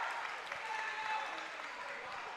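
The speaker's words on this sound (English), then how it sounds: "The gym is loud. Everybody's here. They're up, standing up, cheering." A crowd in a basketball gym at a girls' championship game cheers and applauds in a steady, dense roar, with a commentator's voice talking over it.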